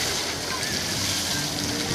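Water sprays and splashes steadily from a musical fountain near the Grand Canyon, a close, broad hiss of falling droplets running throughout.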